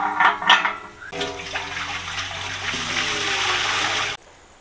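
Water poured into a steaming pot while cooking village-style kotte kadabu, a steady close gushing pour lasting about three seconds after a brief clatter, then cutting off abruptly.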